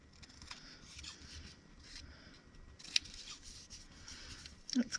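Scissors give a few quiet, close snips while trimming paper for a junk journal, set against faint rustling in an otherwise still room.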